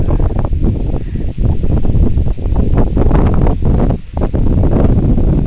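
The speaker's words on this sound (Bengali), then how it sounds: "বাতাসের শব্দটা বুঝতে পারছি না, শোনা যাচ্ছে কিনা। অনেক সুন্দর আওয়াজ।" Strong wind roars and buffets close by in continuous gusts in a rural village, a loud rushing noise with brief dips between blasts.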